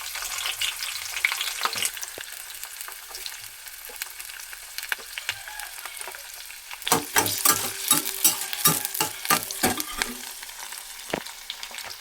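Onions and green chillies hitting hot oil already tempered with seasoning seeds, first a quiet sizzle, then a burst of loud crackling and stirring scrapes in the pan for broad beans fry.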